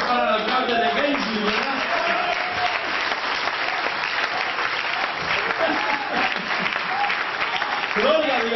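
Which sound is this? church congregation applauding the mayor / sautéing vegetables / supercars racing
church congregation applauding the mayor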